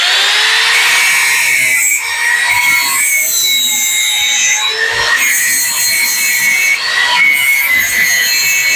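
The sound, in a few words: filing down sewing machine rivet held in vise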